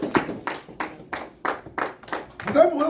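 A church congregation claps in a steady rhythm, about two claps per second, close and fairly loud, with voices mixed in.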